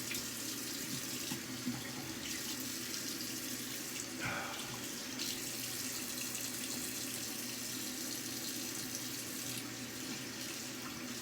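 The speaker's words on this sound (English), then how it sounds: "Cold water rinse." Tap water runs steadily into a sink for several seconds, a continuous splashing rush with no voices.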